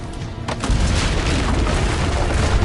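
Cannon fire on a castle rampart in Assassin's Creed Brotherhood, a dense, continuous booming roar of heavy blasts that rumbles loudly throughout with no pause.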